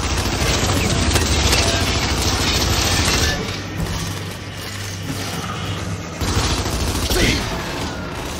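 In Gears 5, gunfire aimed at a moving target rattles in sustained, loud bursts over a dense mechanical din, easing briefly mid-stretch before picking up again.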